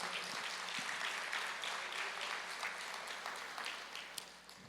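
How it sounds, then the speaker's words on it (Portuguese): Church congregation applauding together, a steady broad wash of clapping at moderate distance that holds throughout and thins slightly toward the end, with no voices over it. "vamos aplaudir ao Senhor"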